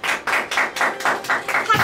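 A few hands clapping in a steady rhythm, about eight crisp claps, fairly close and with no talking.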